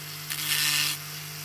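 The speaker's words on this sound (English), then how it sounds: "I've got the sanding drum on here, and I'll just quickly just rub over the top." A rotary sanding drum rubs lightly over thinly painted Dinky Toys diecast metal parts, a soft hiss swelling for about half a second over a steady motor hum.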